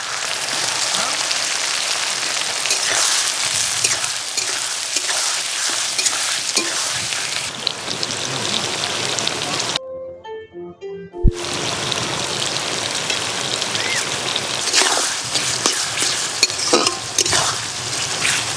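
Chopped onions, tomato, two dried red chillies and a bay leaf sizzle in hot oil, a steady crackling fry with stirring, broken by a brief near-silent pause midway before the sizzle resumes.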